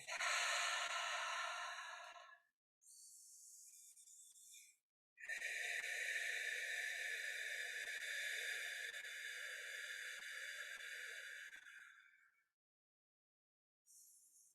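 Several long, deep breaths from a group in a somatic exercise class, airy inhales and exhales in separate swells with short pauses, fairly close and soft, no talking.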